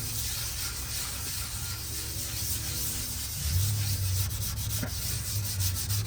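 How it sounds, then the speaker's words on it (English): Polish wax rubbed onto a large red heart pine bowl spinning on a woodturning lathe gives a steady, broad hiss of friction over the lathe's low motor hum, continuous and close. "So now I'm gonna just put a polish wax on it and get it finished"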